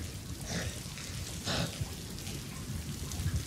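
Rain falls as a steady, fairly soft hiss with a couple of brief brighter bursts of heavier drops, and no clear voices over it.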